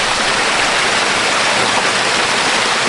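The Blauthaler Waterfall rushes with a dense, steady roar of falling water, close and loud, continuous throughout with no voices.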